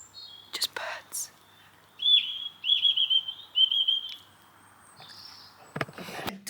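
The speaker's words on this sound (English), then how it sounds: "Just birds." Birds chirp outdoors on a quiet Christmas Day, several short, bright tweeting calls in clusters near the middle, with soft breathy sounds and faint rustling around them in an otherwise still setting.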